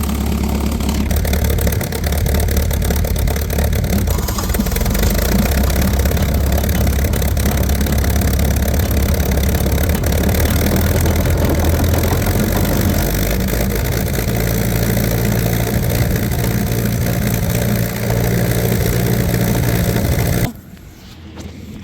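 An old tractor engine runs steadily and loudly with the PTO engaged to drive an old brush hog mower, giving a continuous close rumble for about twenty seconds before it cuts off abruptly.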